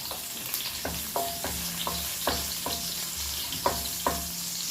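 Tomato and onion sautéing in a hot pan while cooking monggo, a steady sizzle and hiss with scattered sharp crackles and pops, a few clinks from stirring.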